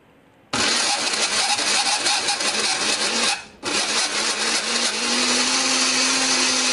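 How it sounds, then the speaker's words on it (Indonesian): Electric blender grinding candlenuts, turmeric, pepper and coriander with a little water, starting abruptly and roaring loudly and steadily, with a brief dip mid-run before resuming with a rising whine. "ini akan kita haluskan menggunakan blender, beri sedikit air ya, supaya lebih gampang untuk menghaluskannya"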